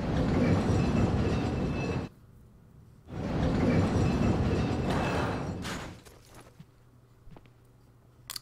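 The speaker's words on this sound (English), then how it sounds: "more accurately is more like a cart, not necessarily a tram" Rail cart rolling along a track in the video game Resident Evil 4, a loud rumbling clatter in two long bursts separated by a brief lull, then fading into quieter ambience with faint clicks.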